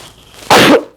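One sharp, loud sneeze bursts out after a stretch of quiet, a sudden human expulsion lasting under half a second.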